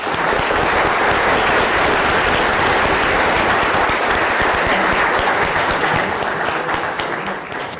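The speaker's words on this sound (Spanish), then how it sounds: "quiero que le demos la bienvenida a esta Casa de la Libertad con un caluroso aplauso" An audience applauds loudly and steadily to welcome a speaker at a lecture, the dense clapping filling the hall from start to finish and easing slightly toward the end.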